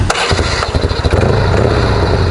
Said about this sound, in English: Now it's a typical Harley clutch beat, so they drag.